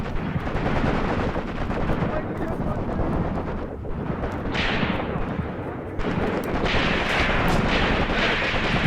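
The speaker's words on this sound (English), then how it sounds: "We need those machine guns consistently operating." Distant WW2 machine-gun fire and battle noise from the Graviteam Tactics war game, a dense continuous rumble of crackling gunfire and explosions, with someone talking over it.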